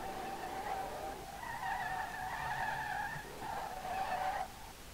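A Fairlady Z S30 drifts in the SLRR racing game, its tires squealing in a wavering, sustained screech in two long bursts over a low engine drone, moderately loud.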